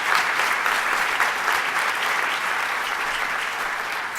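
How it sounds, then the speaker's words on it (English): Steady, dense audience applause at a city summit in Philadelphia, a large crowd clapping continuously and evenly from start to finish with no voices on top. "Can we please give all of them a big, big round of applause?"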